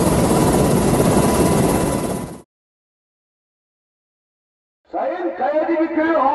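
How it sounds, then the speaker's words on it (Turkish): A firefighting helicopter fitted with a HELTAK water-carrying system roars loudly and steadily, then cuts out abruptly into silence. After the gap, a voice speaks without the engine. "helikopter, aynı anda 11 orman işçisi ve HELTAK sistemi sayesinde 4500 ton su taşıyabiliyor"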